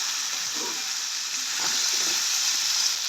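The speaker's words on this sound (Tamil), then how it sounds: "உருளைக்கிழங்கு பார்த்தீங்கன்னு சொன்னால் வதங்கி வருகுது" Potatoes sautéing in a pan, a steady soft hiss and sizzle with faint stirring scrapes, close and continuous.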